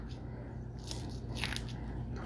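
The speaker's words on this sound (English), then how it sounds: "Can you hear the crunch?" Thin poha chivada, a crispy flattened-rice snack, bitten and chewed close up, giving a few dry crackling crunches over a steady background hum with no talking.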